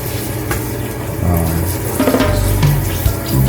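Water sprays unevenly from a clogged nozzle at a salon shampoo sink, a continuous, fairly loud rushing hiss with sputtering surges and shifting tone throughout.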